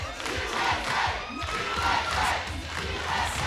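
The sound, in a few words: wrestling crowd cheering and shouting at a cage match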